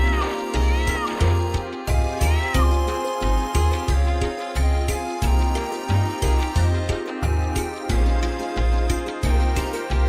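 Repeated cat meows from the video game Wild Arms 2, a steady train of short, bright game-sound meows cycling for several seconds, loud and up front with no speech.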